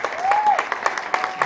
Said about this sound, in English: give a big applause to Polo